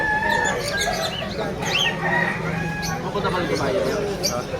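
Chickens cluck and a rooster crows nearby at a Malabon pet market, with people chattering in the background throughout.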